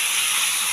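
Chopped banana flower hits hot spiced oil in a pan for a banana flower and prawn ghonto, giving a steady, close, broadband sizzling hiss that lasts the whole brief moment.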